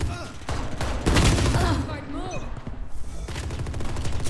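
Rapid bursts of gunfire in Valorant, loud and dense throughout, with someone talking over the shooting.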